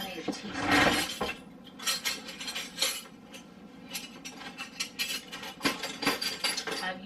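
A metal teaspoon clinks and taps against jars and containers while pumpkin pie spice is measured in a home kitchen, light scattered clinks at close range.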